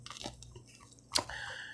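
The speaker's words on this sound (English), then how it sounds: "Chewing away on her bone." A puppy gnaws on her bone up close, soft wet chewing and squishing in irregular bursts with one sharper crunch near the end, over a low steady hum.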